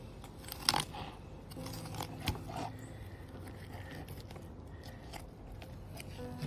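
A knife fillets a California sheephead along the rib bones, giving faint, close crunching and scraping with a few sharp clicks over a steady low background. No one speaks.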